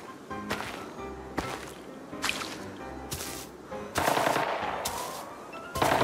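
Sharp gunfire in the shooter game Arena Breakout: about seven loud, spaced shots in irregular rhythm, with a denser burst near the end.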